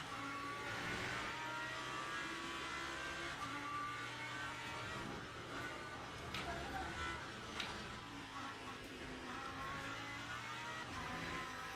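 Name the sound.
Lamborghini GT3 engine in racing sim video game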